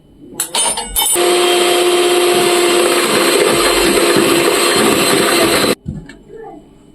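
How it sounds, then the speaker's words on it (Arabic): An electric mixer whipping chantilly cream with a couple of spoonfuls of powdered sugar for mango kunafa whirs loudly and steadily for about five seconds after a few short starts, then cuts off abruptly. "هنضرب بقى الكريم جانتيه"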